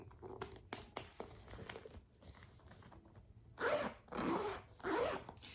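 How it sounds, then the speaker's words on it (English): Zipper being run along a Chanel-style double flap handbag, three quick close zips in a row after some soft handling rustle. "Let's test the zipper on this one."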